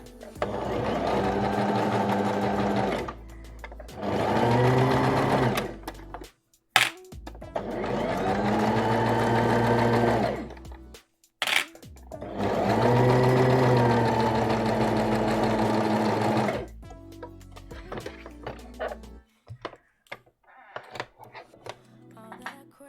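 A sewing machine stitching a seam on an Orchidée dress from Deer and Doe, running in five bursts of steady mechanical whirring lasting a few seconds each, separated by short pauses and ending in faint clicks.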